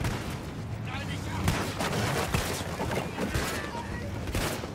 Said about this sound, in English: taking out field guns left and right, man